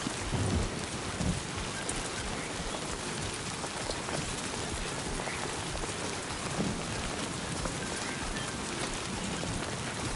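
Heavy rain pours steadily in the Death Stranding 2 video game, a dense unbroken hiss of drops on surfaces, with low thunder rumbling in the distance early on.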